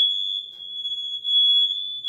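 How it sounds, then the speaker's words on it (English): A household smoke detector sounds off in a kitchen while biscuits are made, one continuous piercing high-pitched tone, loud and close, with no talk over it. "I'm going to have to holler over top of that smoke detector."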